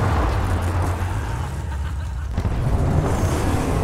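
Car engine in the video game Mad Max, a steady, close, low rumble of a driving vehicle with a gritty surge near the end.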